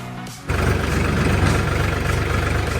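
A tractor engine kicks in after a brief muffled moment and then runs loud and steady, with a deep continuous rumble close by and no talking over it.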